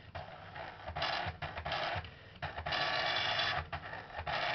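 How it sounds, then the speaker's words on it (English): Dot matrix printer of an Amstrad PCW 8256 computer at work, loud rasping bursts of print head chatter alternating with short mechanical gaps as lines advance, close up. "It's quite noisy, as you can hear, dot matrix printer."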